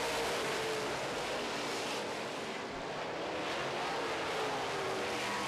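Modified stock cars roaring around a short oval track on the final lap of a feature race, a steady broadband engine roar heard from the stands throughout, with wind buffeting the microphone.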